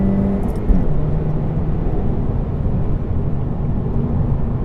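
A 2017 Honda Civic Hatchback with the 1.5T engine and six-speed manual downshifting, a loud continuous low engine drone with steady road and wind roar heard from inside the cabin.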